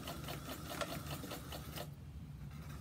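A sewing machine back stitches on a fabric bowl cozy, its rapid mechanical stitching chatter running steadily and close for almost two seconds before stopping abruptly.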